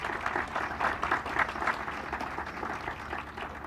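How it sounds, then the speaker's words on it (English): Brief burst of crowd applause at a ribbon cutting ceremony for a Center for Military-Connected Students renovation, fairly faint and steady clapping from a modest gathering, fading slightly toward the end. "Please, a big round of applause for them,"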